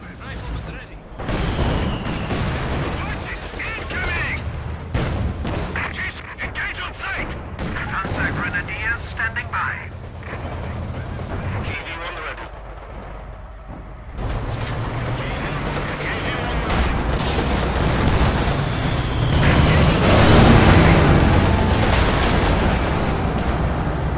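Dense gunfire and booming mortar explosions rumble through a Company of Heroes 2 battle, with sharp cracks layered over heavy low blasts and continuous battlefield noise. Voices speak over the din.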